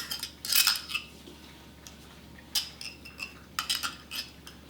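A metal spoon scrapes and clinks against a glass jar while scooping ingredients for a pasta salad, a few sharp close taps in uneven bursts over a quiet room.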